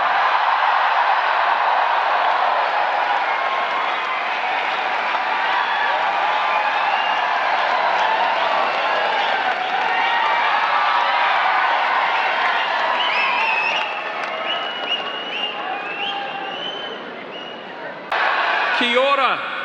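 A large indoor audience cheers and applauds for New Zealand Prime Minister Christopher Luxon, a dense, loud, sustained roar of clapping, whoops and shouting that holds steady, dips briefly near the end, then swells again.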